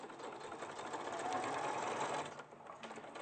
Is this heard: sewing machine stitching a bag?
yes